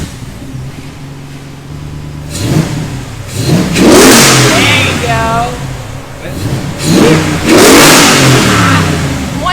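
A two-wheel-drive Jeep JK fitted with a 6.4 Hemi V8 revs loudly in repeated bursts, the engine climbing and falling close by while a person talks over it.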